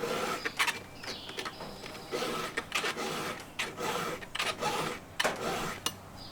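A hand file rasps across a saw chain as the cutters are square-filed, a series of close, rhythmic scraping strokes with brief pauses between them.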